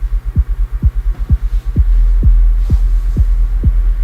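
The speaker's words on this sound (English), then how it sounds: "So we're just skewing the signal of the kick a little bit." A tuned electronic kick drum thumps in an even pulse, about two hits per second, each with a pitch-dropping boom. Partway through, an LFO skews the signal and a thick sustained low hum swells under the hits.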